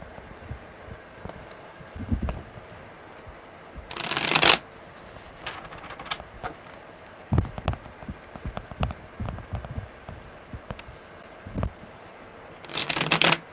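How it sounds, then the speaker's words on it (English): Tarot cards are shuffled by hand in two short, crisp bursts of riffling near the start and again at the end, with soft handling noises and quiet movement between them. "Okay, one more good shuffle."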